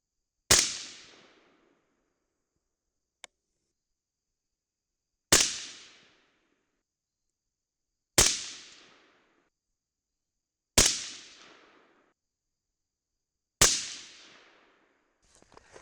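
Five sharp, loud rifle reports from an Mk262 clone firing Ramshot TAC handloads, spaced a few seconds apart at a range, each with a decaying echo and a faint click between.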